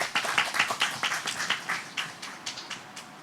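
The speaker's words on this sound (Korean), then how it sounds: "큰 박수로 맞이해 주시기 바랍니다" At a roundtable on the MICE industry in Jeju, a small audience greets the panel with sparse clapping, distinct individual claps in a loose, uneven rhythm, fairly faint and fading slightly over a few seconds.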